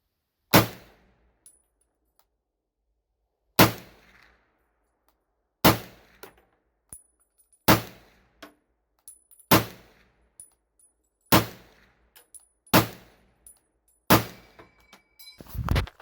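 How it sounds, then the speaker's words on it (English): Sharp rifle shots from a 1940s military rifle fired at a range, roughly eight loud cracks spaced a couple of seconds apart, each followed by faint clinks and thuds, with no talking. "it is a tremendous gun to shoot"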